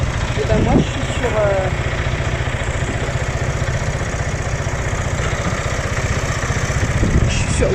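Scooter engine idling at a fuel stop, a steady rapid low throb running throughout, close and loud, with brief voice sounds near the start.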